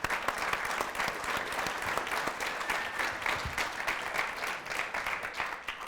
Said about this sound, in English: you can applaud if you wish, yes.